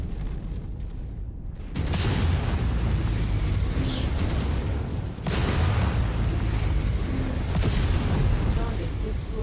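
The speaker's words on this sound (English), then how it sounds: "Ammo explosion." An ammo explosion in the MechWarrior video game arrives as heavy booming bursts over a constant roar of battle, with a second big blast hitting partway through and the loud, dense rumble continuing to the end.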